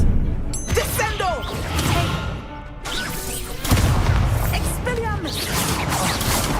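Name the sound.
Descendo spell cast in a Harry Potter video game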